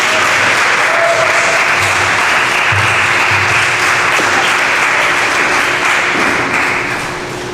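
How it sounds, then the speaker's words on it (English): Sustained applause from an audience honoring Wylie, a local case worker, patient and advocate, at a public gathering; dense, steady clapping throughout that tapers slightly at the end, with no talking. "a round of applause"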